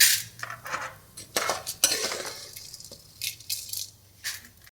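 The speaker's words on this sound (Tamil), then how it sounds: "நான் கடலைப்பருப்பையும் உளுத்தம்பருப்பையும் ஒரு பிளேட்டுக்கு மாற்ற போகிறேன்" Fried chana dal and urad dal being moved from a pan onto a plate while making radish chutney: clattering metal clinks and scrapes of utensil against cookware, in irregular bursts, fairly close.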